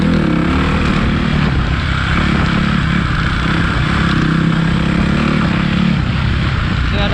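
A Suzuki RMZ450 dirt bike rides on single track, its engine note a steady, loud, close drone running unbroken throughout with no pauses.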